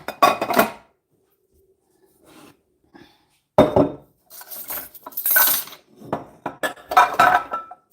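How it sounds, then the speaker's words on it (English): A mixing bowl is pulled out among other dishes while making buttermilk sourdough English muffins, giving sharp clattering clinks of crockery and metal utensils in several close, loud bursts separated by silent gaps. "Let's see if I can get this bowl out of here"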